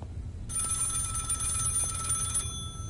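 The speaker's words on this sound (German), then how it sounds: "Ein Telefon." An old telephone rings inside a house in the horror game Maid of Sker, one continuous bright electric bell ring lasting about two seconds over low rumbling ambience.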